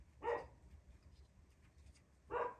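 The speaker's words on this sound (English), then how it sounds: "Sorry about my dog, that's my dog" A dog barks twice indoors, one short bark near the start and another about two seconds later, both faint against a quiet background hum.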